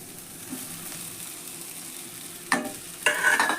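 Fried cluster beans (chavalikai) are stirred into masala in a pan for a North Karnataka palya. A soft, quiet sizzle is followed by two sharper scraping, stirring bursts near the end.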